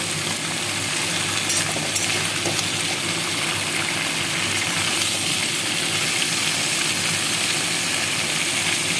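Drumstick (moringa) stems frying in a pan with tomato and salt, a steady continuous sizzle with soft stirring scrapes, close and even throughout, no voices.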